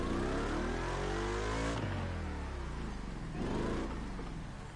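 A Mercedes-Benz SLS engine revs in The Crew Motorfest racing game, a loud rising engine note that climbs, drops sharply at a gear change, then climbs again with harmonic sweeps, heard alone without talking.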